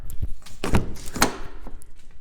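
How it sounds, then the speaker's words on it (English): A door is handled close by: a few clunks and a thunk as it opens, with a brief rattle, no talking. "Hold on, I gotta open this door."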